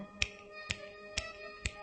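Four crisp finger snaps ring out at an even, unhurried pace, each a sharp click against a quiet background.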